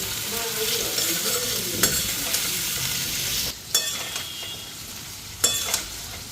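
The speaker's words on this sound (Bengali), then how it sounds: "ভালো করে ফ্রাই করে নি মশলা দিব লবণ হলুদ মশলা একলগে দিয়ে দেব" Spices with salt and turmeric fry in a hot pan, a steady close sizzle with a few sharp clicks and scrapes of stirring.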